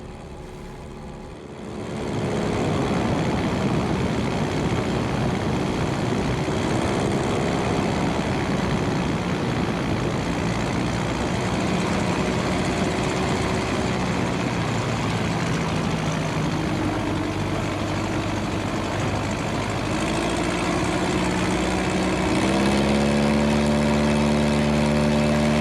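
A light airplane engine runs steadily and loud through a touch and go, its drone rising sharply in pitch near the end as throttle is added; no talking.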